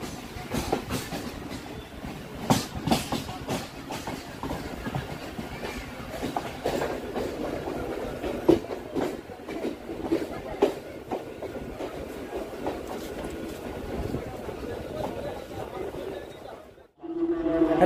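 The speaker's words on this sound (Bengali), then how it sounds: "এক মিনিট বিফোর 6:10-এ ট্রেন ঢুকলো রানাঘাট জংশন স্টেশনে।" A local train pulls into Ranaghat Junction station with a loud, sustained rumble and rhythmic clickety-clack of wheels over rail joints, which continues for most of the stretch before a brief drop near the end.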